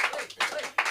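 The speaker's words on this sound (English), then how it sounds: "Don't clap for me." An audience at a Los Angeles comedy show claps for a comedian in three quick bursts, each fading briefly before the next swell, fairly close and lively.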